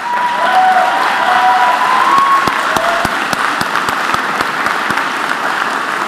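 Audience at a 2014 high school commencement ceremony applauds the school staff, a loud, full burst of clapping that thins toward the end into scattered sharp claps, with a brief faint tone early on.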